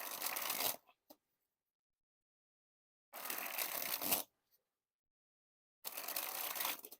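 Bicycle playing cards in a blue and turquoise colorway sprung from hand to hand, three quick fluttering bursts of riffling card noise, each under a second long, separated by silence.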